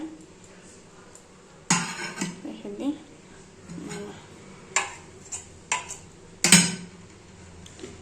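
A rice pot is handled and scrubbed in a kitchen, giving sporadic metallic clanks and knocks of dishes and cutlery, with a louder clatter near the end over quiet background.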